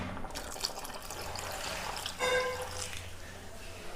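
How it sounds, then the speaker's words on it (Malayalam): Second-extract coconut milk is poured into thickening pumpkin payasam in a home kitchen, a soft close liquid trickle and splash that swells briefly midway, quiet and without talk. "ആദ്യം 2ാം പാലാണ് ഞാൻ ഒഴിക്കുന്നത്."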